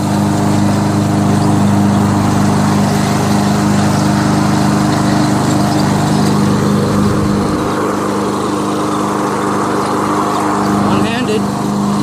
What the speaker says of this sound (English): Might as well mow the backyard too.